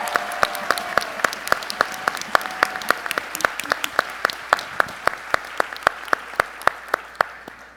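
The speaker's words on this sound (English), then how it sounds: "give a rowdy and loud round of applause for our panelists today" A conference plenary audience claps for its panelists in a sustained round of applause. Sharp hand claps stand out over a dense wash of clapping that stays loud and even from start to finish.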